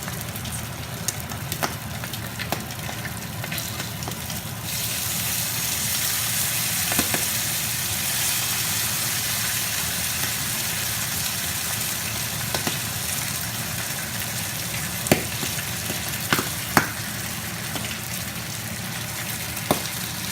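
Atlantic salmon pieces fry in hot oil in a bowl-shaped pan, a steady broadband sizzle that swells after the first few seconds and holds loud and even, with a few sharp pops and crackles and no talk.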